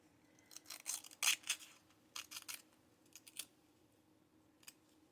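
Scissors dragged across paper to rough up an inked papercraft piece, heard as a series of short, dry scraping and crinkling strokes in quick bursts, fairly close and soft, with no talking.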